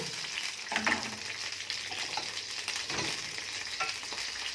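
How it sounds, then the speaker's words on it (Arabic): Fried, yellowed garlic in a pan for Egyptian koshari hisses and sizzles as vinegar is poured in, a soft, continuous crackle with a few brief louder bursts and no voices. "هنطشها بقى بالخل"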